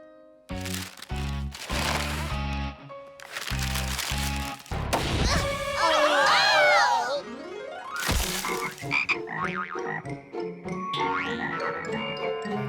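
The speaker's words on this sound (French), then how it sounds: "Il semblerait qu'ils aient été changés en grenouilles." Cartoon frogs croaking after a group of students is magically turned into frogs: a loud series of repeated, rhythmic croaks mixed with bouncy boing and crash effects, with no talking.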